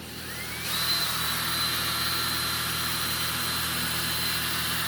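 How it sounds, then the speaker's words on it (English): A power drill twisting thread into cord starts up and then runs steadily at a high, whining pitch, loud and continuous, with no pauses. "And then just start drilling."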